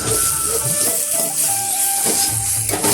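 Tomatoes frying in a pan with turmeric powder for Chhattisgarhi faraa, a steady close and loud sizzle with soft stirring scrapes running through the whole stretch.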